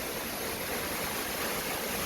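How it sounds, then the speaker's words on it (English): River water pouring over a weir, a loud, dense, continuous rushing roar heard close by with no pauses. "And this is where the weir is."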